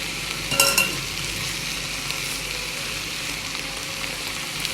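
Tomatoes dropping into chicken shawarma frying in a pan give a brief loud hiss and clatter early on, then a steady close sizzle continues alone.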